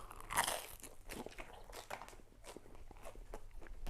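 Crispy garlic bread on sourdough crunching between the teeth, a loud bite near the start followed by steady close chewing crunches, with no talking.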